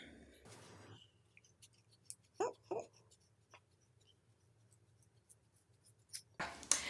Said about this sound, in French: je vais couper au niveau de l'élastique